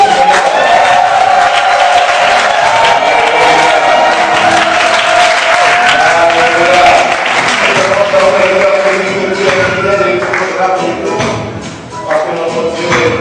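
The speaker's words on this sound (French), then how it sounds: "je veux vous voir acclamer" A church congregation claps and cheers loudly in a prolonged wave of applause with whoops and voices, holding strong for several seconds before thinning out toward the end.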